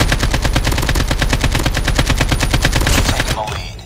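Rapid automatic gunfire in a video game, a long loud burst of evenly spaced shots that cuts off near the end.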